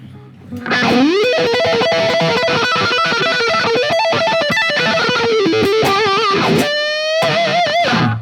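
An electric guitar plays a fast distorted lick with a sweeping wah-wah tone, notes bending and warbling loudly over several seconds.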